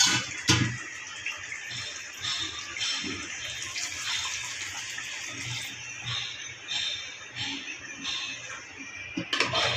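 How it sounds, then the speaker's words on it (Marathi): Water pours and splashes into a pan with a steady rushing flow, fairly faint, ending with a few clatters. "आता थोडंसं पाणी घालून घ्यायचं आहे"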